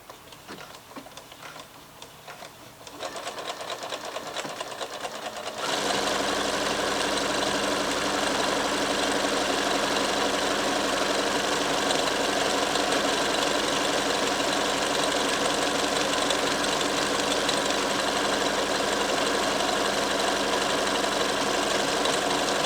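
A sewing machine fitted with a buttonhole foot stitches a one-step buttonhole: a steady, fairly loud mechanical whirr runs unbroken for about 17 seconds after a few seconds of quieter ticking, with no talking.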